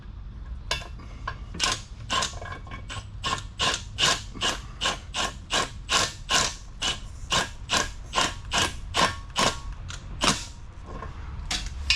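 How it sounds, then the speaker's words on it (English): Torque wrench cranking bolts down to 72 foot-pounds during a Dodge Challenger driveshaft and differential install, a steady run of sharp, evenly spaced ratcheting clicks in quick succession, close and loud with no talking. "I'm going to torque them all to 72 foot-pounds"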